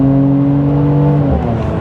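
A Mercedes C43 AMG, 400 horsepower, accelerates in comfort mode with its performance exhaust switched off, a smooth, loud, rising engine drone heard from inside that eases off near the end.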